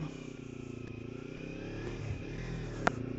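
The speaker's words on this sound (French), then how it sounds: "Ils m'ont mis un petit pot d'échappement à Krapovic dessus là, le bruit est bien sympa" A Kawasaki Ninja 300 engine with an Akrapovic exhaust runs with a throaty, pulsing note, rising slightly in revs, heard from the rider's position.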